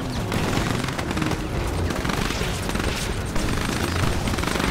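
Dense gunfire and explosions from the strategy game Command & Conquer Kane's Wrath, a loud continuous rattle of rapid shots with heavy booms, no talk.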